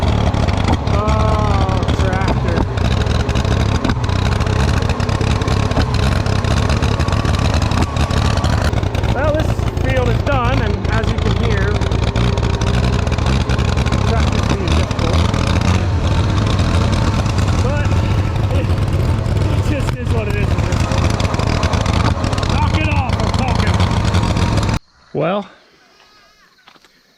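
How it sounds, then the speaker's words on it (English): A loud tractor engine runs steadily and close up for a long stretch on a farm, with a low rumble throughout, then cuts off abruptly near the end. "Oh, tractor."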